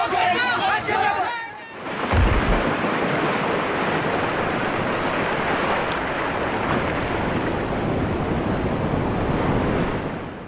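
Floodwater rushes and roars under a bridge in a loud, continuous broadband torrent after a brief moment of voices at the start.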